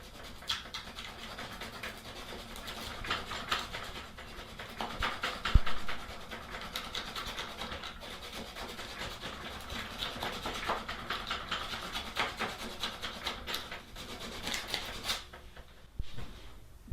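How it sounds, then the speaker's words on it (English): Hand sanding of wooden bookshelf legs, a close, continuous rhythmic scratchy rubbing with irregular back-and-forth strokes and no talking. "I'm even going to give them a bit of sand"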